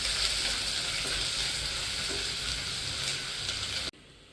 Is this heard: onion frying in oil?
yes